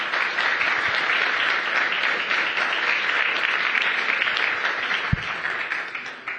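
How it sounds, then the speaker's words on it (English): A conference audience at COP 28 applauds the panelists, a steady dense round of clapping that holds for several seconds before starting to thin out at the end. "So if we could give our panelists a big round of applause."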